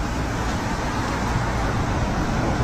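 Dense city road traffic with a bus rolling past among cars on a road with a bus lane, a close, steady engine-and-tyre roar without pauses.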